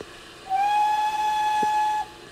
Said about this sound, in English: Come on, give us a whistle.